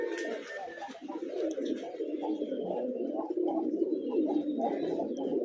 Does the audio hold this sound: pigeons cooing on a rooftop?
yes